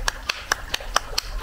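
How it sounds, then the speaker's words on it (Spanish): Hands clap and pat masa dough to shape thick guamúchil sopes in a Colima kitchen. Seven crisp, evenly spaced pats sound close and moderately loud, about one every quarter second. "Vamos a aplaudir y aplaudir y aplaudir"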